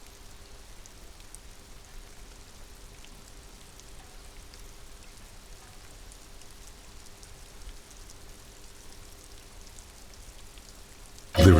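Steady rain patters softly and evenly throughout in the video game Disco Elysium, a constant wash of drops with no voices, ending in a brief louder burst.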